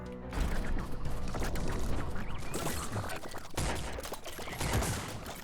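Rapid, dense gunfire with bouncing bullets in the video game Voidigo, a loud continuous barrage of overlapping shots and impacts that runs for several seconds with a few brief lulls.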